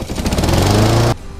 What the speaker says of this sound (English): The pull start on these things, just so simple.